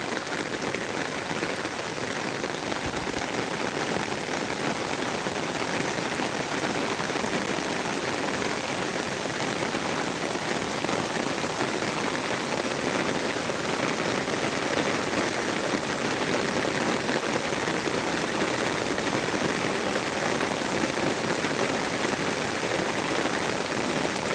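Steady rain falls continuously near the Silonia river in Bangladesh, a dense even hiss of drops on surfaces with no pauses and no voices.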